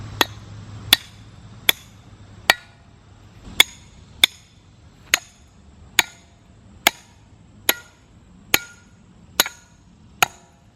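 A branch being trimmed outdoors with sharp, evenly spaced chopping blows, about thirteen crisp loud strikes at a steady rhythm, close and with no talk.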